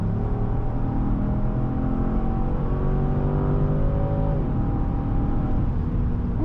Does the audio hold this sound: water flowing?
no